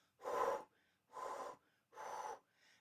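Three separate breathy blows sent over a flute mouthpiece the wrong way, each a soft hissing puff of about half a second with pauses between, close and quiet, producing no tone.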